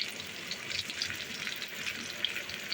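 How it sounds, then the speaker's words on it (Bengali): Onion and dried red chillies frying in mustard oil in a home kitchen pan, a steady, fairly quiet crackling sizzle with soft continuous bubbling and no talking. "উপরে তেল আসলেই তারপরে মরিচ আর পেঁয়াজ ভাজতেছি"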